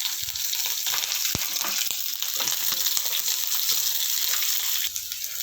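Slit green chillies hit hot oil with popped mustard seeds and fennel for egg rice, giving a loud, continuous hissing sizzle with scattered crackles and pops, close up and alone.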